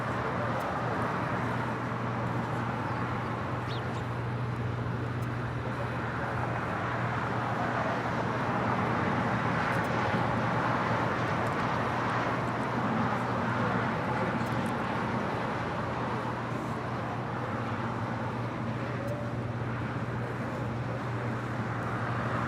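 A jet airliner on its departure roll at LAX gives off a steady, broad engine roar that holds at an even level for the whole stretch, with no talk over it.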